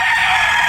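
Gamefowl roosters, Boston pullets and battle stags on a Batangas game farm, with a dense, loud crowing chorus filling a short stretch as several birds call over one another.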